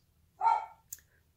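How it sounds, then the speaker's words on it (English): A single dog bark, short and moderately distant, followed by a faint brief yip; otherwise quiet. "Sorry about the barking dog in the background"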